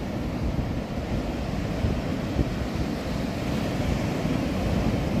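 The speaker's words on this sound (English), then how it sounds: "I feel like maybe the waves are a little bit bigger" Ocean waves break on the shore at Pacifica at night, a continuous dense roar of surf with wind buffeting the microphone, steady and fairly close, with no voices.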